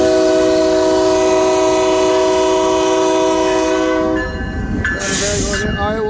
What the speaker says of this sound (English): Iowa Interstate train here that I'm actually riding up next to.